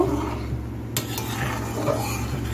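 Prawns are stirred in a pan for a Bengali chingri chochchori, with a metallic scrape of the utensil and soft clatter over a faint sizzle, close and brief, with no voices.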